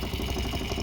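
Mud motor boat engine idling steadily close up, a 16 hp low-rise setup fitted with a Mud Skipper Twister and a modified, quieter exhaust, giving a continuous low rumble with no voices.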